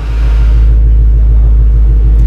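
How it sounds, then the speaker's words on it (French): Loud, deep V8 engine rumble from a Ford Mustang by Clive Sutton, idling steadily close by at a supercar show, a heavy low throb with no talking. "J'entendais un énorme bruit, je me demandais ce que c'était. C'est la Mustang par Clive Sutton."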